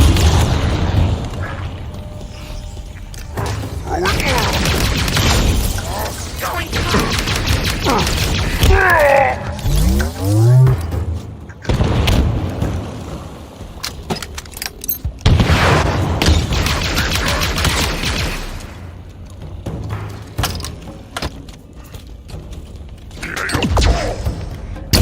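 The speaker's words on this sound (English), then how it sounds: "I'm throwing plasma grenades at them, and they're just saying no." Plasma grenades exploding in a video game firefight, with repeated booms and bursts of gunfire layered densely through a loud, busy battle mix.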